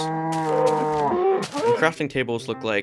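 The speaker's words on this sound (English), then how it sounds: "In this update, cows sound like this," Cow mooing in Minecraft Beta 1.9 Pre-Release 3, a long, close, drawn-out bovine moo followed by someone talking.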